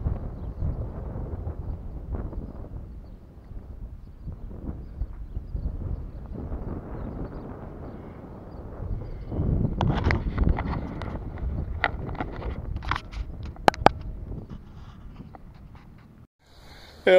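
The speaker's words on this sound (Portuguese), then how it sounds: "Muito vento" Strong wind buffeting an outdoor microphone in hot sun, a continuous low rumbling roar that swells and gusts throughout, with sharper crackling bursts in the second half.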